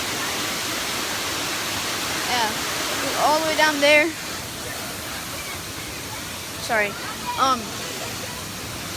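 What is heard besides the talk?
waterfall rushing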